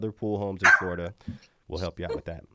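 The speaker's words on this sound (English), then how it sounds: "I'm so sorry for the barking." A dog barks once, briefly, at a lakefront home in Winter Haven, Florida, while someone keeps talking over it.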